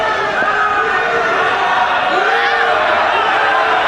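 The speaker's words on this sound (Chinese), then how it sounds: "现场观众不停的在起哄啊" A live audience at a kicking-fight bout clamors and jeers continuously, a loud steady crowd roar, with a commentator talking over it.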